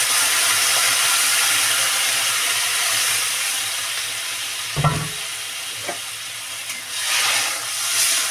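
Water poured into a hot pan of kohlrabi and fish heads being cooked with salt and turmeric, a steady loud sizzling hiss with a brief sharper splash-like burst midway, no talking.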